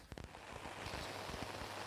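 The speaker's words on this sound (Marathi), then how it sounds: "पाऊस मात्र खूप जोरात आलेले आहे" Rain pours down steadily on a surface, a dense patter with a few louder drop hits near the start.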